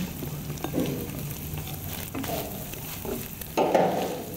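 Ham and bacon stir-frying in a pan, a steady close sizzle broken by scraping stirs of the spatula, with a louder burst of frying near the end; no voices.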